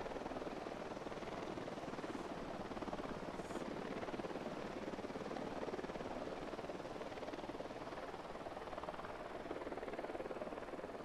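A helicopter hovers in the video game Ghost Recon Wildlands, a dense, steady rotor and engine roar held at a constant distance with no pauses.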